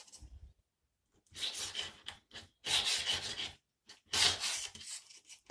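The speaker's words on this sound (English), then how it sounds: "Cut off all the excess. And wipe down what's left." Excess material is wiped down by hand after being trimmed off while installing a shower safety rail, three short bursts of close, scratchy rubbing separated by brief pauses.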